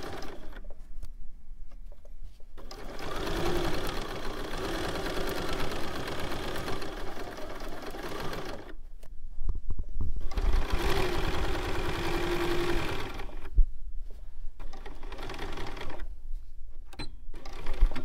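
Sewing machine stitching pages into a fabric book, running in two long steady whirring bursts separated by quiet pauses.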